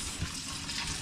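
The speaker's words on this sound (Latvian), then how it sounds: "mēs te mazgājam pistācijas" Pistachios being rinsed in warm water make a steady splashing, running-water sound up close, brief and continuous with no voices.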